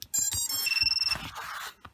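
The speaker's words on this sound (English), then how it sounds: "that 30 seconds of the low volume beeping" VIFLY Finder V2 drone buzzer sounding at its low volume setting, a rapid series of high electronic tones and chirps lasting under two seconds, fairly faint and close.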